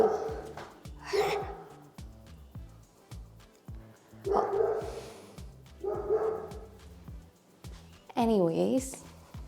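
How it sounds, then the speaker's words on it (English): A pet dog barks and yips in several separate bursts, fairly close, with a whining cry near the end, while a person talks in between. "My dog won't shut up."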